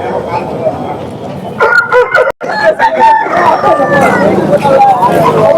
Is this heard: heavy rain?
no